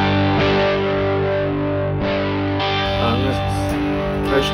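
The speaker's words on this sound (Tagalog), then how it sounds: "Ganito yung tunog niya pag both humbuckers." An electric guitar with both humbuckers selected, played through a Fender amp on a blues setting, rings out in thick, harsh, distorted chords that sustain and overlap, loud and close, with a few string scrapes and no talking.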